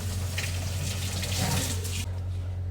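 Water is poured from a jug into a pot of mutton for yakhni, making a steady, fairly quiet splashing stream that stops abruptly near the end.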